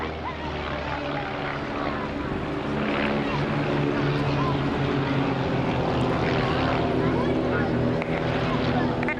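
A Team Raven display aircraft at an air show passes from left to right, its steady engine drone loud and continuous throughout, with a commentator talking over it.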